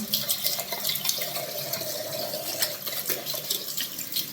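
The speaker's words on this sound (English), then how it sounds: "I'm gonna wash my hands again" Tap water runs steadily into a sink while hands are washed beneath it, a continuous close splashing hiss with small drips and no talking.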